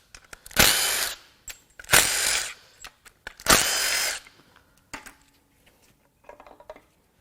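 Power tool, likely an impact driver, removing the oil pump from a Ford Mustang GT 3V 4.6 engine during teardown: three loud whirring bursts about a second apart, then softer clicks and a faint final spin.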